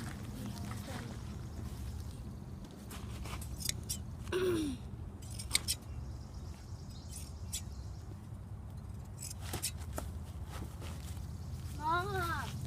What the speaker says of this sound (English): I'm shearing the sheep, and this is the first one that I've done for the year.